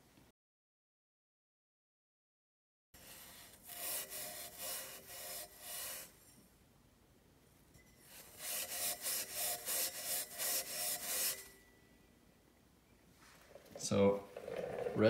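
A red Scotch-Brite pad with Autosol scrubs a stainless steel exhaust in two bursts of rapid, rhythmic back-and-forth rubbing, close and gritty, separated by a quieter pause and ending with a clunk.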